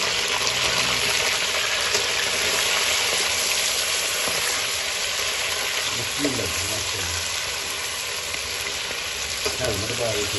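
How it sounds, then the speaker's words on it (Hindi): Chicken pieces fry in hot ghee for bhindi gosht, a dense continuous sizzle with occasional stirring scrapes, loud and close throughout. "इसी घी में हम चिकन ऐड कर देंगे"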